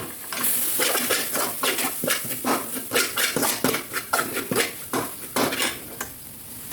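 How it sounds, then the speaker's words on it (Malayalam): Chicken with spices and lemon juice being mixed in a pressure cooker pot, giving a steady run of close metallic scrapes and clinks from the spoon against the pot. "എന്നിട്ട് നന്നായിട്ടൊന്ന് ഇടയ്ക്ക് യോജിപ്പിക്കാം"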